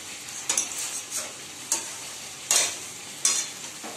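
Fish coated in masala fries in an uncovered wok (kadai), a steady close sizzle broken by four sharp scraping strokes of a spatula as the pieces are turned, with no talking.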